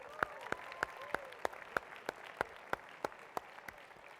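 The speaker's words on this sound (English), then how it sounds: "Give yourselves a round of applause." A small audience at a motivational event claps in a slow, steady rhythm, about three distinct claps a second, fairly close and clear against a quiet room.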